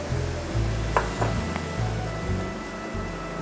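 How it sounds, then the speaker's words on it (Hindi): Tomato paste frying with masala in a pan for a potato and lobia karahi, a steady low sizzle with a few soft stirring scrapes, close and continuous. "ये भी शामिल हो जाएगा और इसकी भी बहुत अच्छे से भुनाई की जाएगी।"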